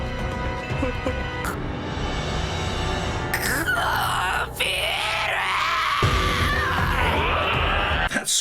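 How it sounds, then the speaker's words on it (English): A male anime character from Re:Zero lets out a long, loud anguished scream that rises and strains over a dense backdrop of dramatic music. "scream from Subaru"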